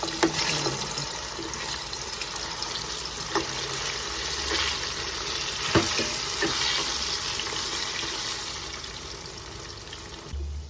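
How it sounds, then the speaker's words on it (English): Ripe plantain slices (dodo) frying in hot oil, a steady bubbling sizzle throughout, broken by occasional clinks and scrapes of a utensil in the pan, fairly close and unaccompanied by speech. "It's time to fry the plantain."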